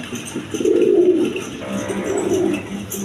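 Red Gorra pigeons, a male among them, give loud, close, throaty coos in two sustained rolling phrases, with no other sounds over them.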